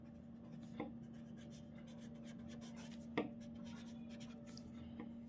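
A pen writing during a maths lesson, faint continuous scratching on paper with a couple of light taps, quiet and close against a low steady hum.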